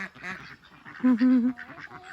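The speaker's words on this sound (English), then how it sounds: "And look at all the duckies." Domestic ducks let out for an evening roam call with honking, quacking bursts, a loud sustained call standing out in the middle among softer chatter nearby.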